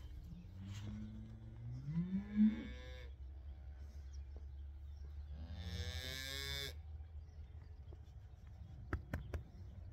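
A bottle-fed beef calf gives two drawn-out moos, separated by a few seconds, over a low steady background hum. The calls are moderately close, and no one speaks.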